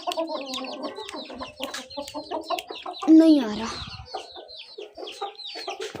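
Hens clucking in a rural backyard flock, busy overlapping calls and a louder squawk mid-way, with someone speaking briefly nearby.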